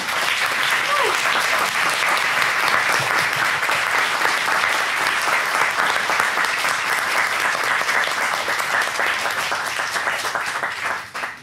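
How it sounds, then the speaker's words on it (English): Loud, dense applause from a large conference audience fills the whole stretch, steady throughout before tapering off at the very end. "another big round of applause of thank you to Ching"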